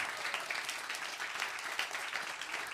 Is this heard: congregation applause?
yes